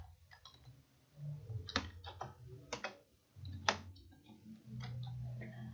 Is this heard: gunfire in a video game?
no